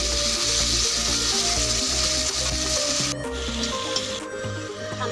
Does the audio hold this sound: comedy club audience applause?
no